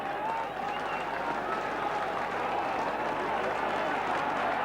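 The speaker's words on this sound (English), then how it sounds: "that's applause for their heroes by the Maesteg fans" Maesteg rugby supporters applaud their team at a match against the New Zealand Maoris, a dense, continuous crowd clapping with a commentator talking over it.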